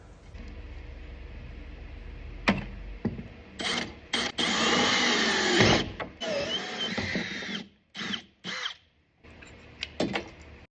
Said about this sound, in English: So I need to drill a hole here and here.